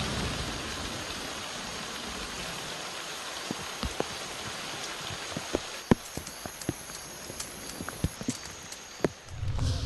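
Rain falls steadily in the jungle at Cuc Phuong, a dense continuous hiss of rainfall with scattered sharp drips and taps landing close by on leaves and surfaces, no voices present.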